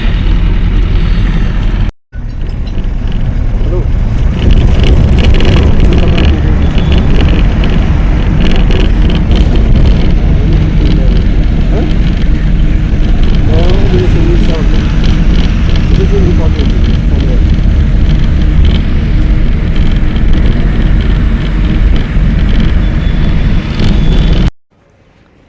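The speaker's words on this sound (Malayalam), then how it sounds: "ഇവിടുന്ന് റെയിൽവേയിലേക്ക് പോകാൻ ഒരു ബസ് കിട്ടി" Steady loud engine rumble and road noise from inside a small bus heading to the railway station in snowy Kashmir, continuous for most of the ride with brief cuts at start and end.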